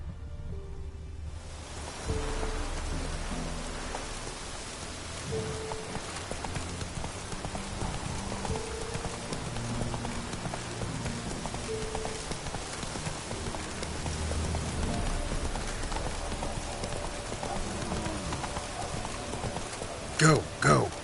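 Hooves of Roach, the horse in The Witcher III, galloping through Velen in a steady rhythmic clip-clop over rain-like ambient noise and music, with someone talking over it.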